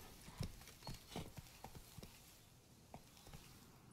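Horse hooves clip-clop at a walking pace in The Witcher 3: Wild Hunt, Blood and Wine, with a steady, irregular run of close, soft thuds that fade toward the end.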